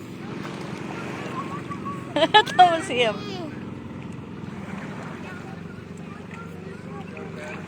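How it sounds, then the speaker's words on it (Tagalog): Motorboat engine droning steadily at sea near a beach resort in Lemery, Batangas, mixed with wind and surf noise; a brief burst of nearby talk breaks in midway. "Ayan na, may bangka na."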